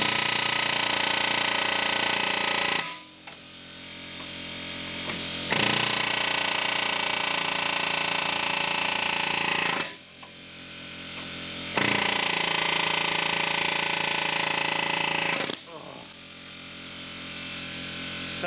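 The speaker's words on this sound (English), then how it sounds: "I need to find the cutting part for my air chisel, which I don't have, so I'm using the wrong tip." An air chisel fitted with the wrong tip and driven by a small compressor hammers in long continuous rattling bursts with short breaks between them, loud and close while working on an axle bushing.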